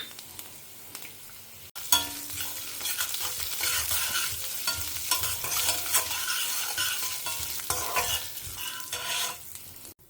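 Black pepper and cumin sizzle and crackle in hot oil in a pan, with stirring scrapes throughout and a soft clatter at the start.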